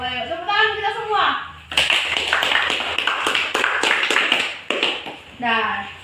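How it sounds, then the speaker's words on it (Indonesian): A group claps hands together during a children's storytelling session, a dense run of quick, loud claps lasting several seconds, with a voice speaking briefly before and after. "Yuk, tepuk tangan kita semua"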